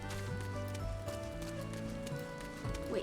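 Horse hooves clip-clop in Final Fantasy XIV, a steady patter of in-game steps for a blue horse, set against ongoing game music and ambience.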